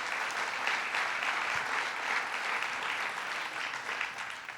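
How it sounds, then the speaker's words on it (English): An audience at a Nassau Expressway reconstruction announcement gives the County Executive a round of applause, even sustained clapping filling the room throughout. "let's give the County Executive a round of applause."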